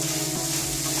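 Turmeric, ginger and garlic sizzle in hot oil in a pan, a brief, steady, even frying hiss with no voices.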